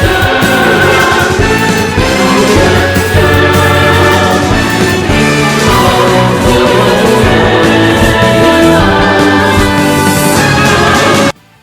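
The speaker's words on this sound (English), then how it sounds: "when the boss theme sounds like this." Final boss theme from the video game Labyrinth of Galleria, a loud, full orchestral-rock piece with driving low end and dense upper layers playing continuously before cutting off near the end.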